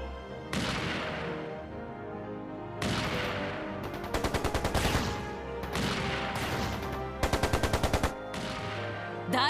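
Gunfire in the Japanese role-playing game Trails from Zero, with rapid machine-gun bursts in several rattling volleys that break up a loud, dense stretch of battle noise.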